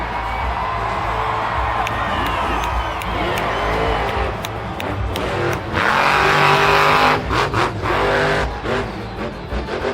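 Monster truck engines roar and rev loudly at a Monster Jam event featuring Grave Digger trucks, with tire noise and a crowd cheering underneath, building to a louder swell midway.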